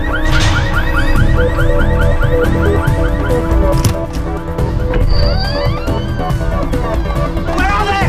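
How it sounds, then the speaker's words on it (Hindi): A green Volkswagen's car alarm goes off with a rapid repeating electronic whoop that wails loud and close, among traffic and commotion, with a short pause before it continues. "वो गाड़ी का अलार्म बज रहा है."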